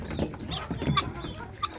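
Desi domestic chickens cluck softly in short irregular bursts close by at a home yard while being fed, with a brief squawk among them.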